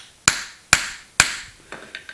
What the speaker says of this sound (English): smack it pretty good with this hammer here